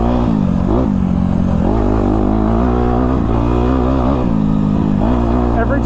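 A Honda CRF250R dirt bike engine revs loudly and up close while ridden on a track, its pitch rising and dipping in repeated surges, with a voice talking over it.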